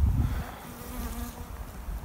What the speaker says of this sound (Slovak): Je táto okolo mňa včela.